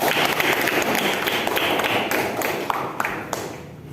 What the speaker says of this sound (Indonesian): Masih tepuk tangan untuk kelompok 3